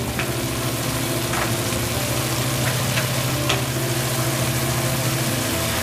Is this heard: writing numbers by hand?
no